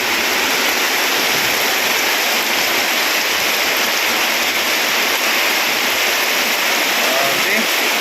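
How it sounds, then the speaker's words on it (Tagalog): A dense, steady roar of heavy rain pours without letup, loud and close, with no clear voices above it. "Grabe, lalong lumakas yung ulan."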